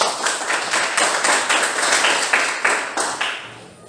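Classroom students clap together in a loose, rhythmic burst of applause lasting a few seconds, close and moderately loud, with faint voices mixed in.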